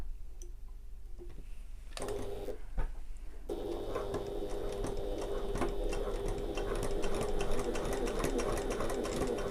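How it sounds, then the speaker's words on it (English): A sewing machine stitches a fabric sling bag close beside a metal ring, starting with a few short bursts and then running in a long, steady, fast rhythmic chatter, near and clear with no talk. "sew all the way along, and I'm going as close as I can to the ring"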